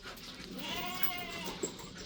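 A goat bleats in a long, wavering call over open outdoor ambience, with a brief sharp knock near the end.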